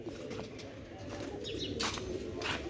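Pigeons coo softly over a low background hum, with a few brief chirps and a faint flutter toward the end.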